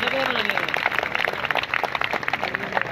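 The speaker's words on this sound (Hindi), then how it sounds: "उनके लिए जोरदार तालियां" A college audience in Multan gives the vice principal a round of applause: dense, steady clapping from a crowd, with a voice briefly audible at the start.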